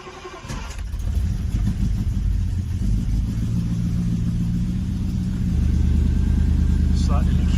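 Triumph Stag car engine turns over and catches on a little choke, then settles into a loud, steady rumbling idle that swells slightly near the end, with someone talking nearby.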